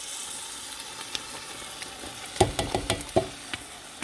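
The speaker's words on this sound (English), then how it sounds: "And give it a good stir" Crushed tomatoes being stirred into a pan of simmering onions, garlic and Italian seasoning, with a steady low sizzle and a few scraping clinks of the spoon near the end, no voices.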